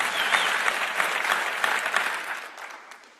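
Audience applause at a Turning Point political rally on the Ohio State campus, a dense sustained wash of clapping from a large crowd that fades gradually toward the end.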